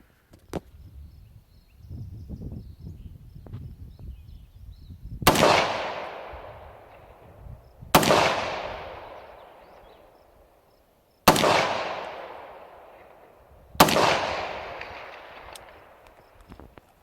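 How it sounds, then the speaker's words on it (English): Four loud 300 Blackout rifle shots crack out at an outdoor range, evenly spaced a few seconds apart, each followed by a long fading echo. "I think I'm gonna shoot 4 rounds here now"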